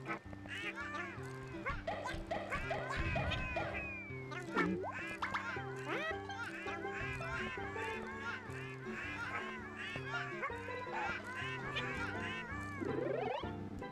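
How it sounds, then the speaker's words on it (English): Dense, continuous chorus of many ducks quacking and honking in a video game, loud and overlapping with a steady layered rhythm throughout. "I don't want to listen to these fucking birds."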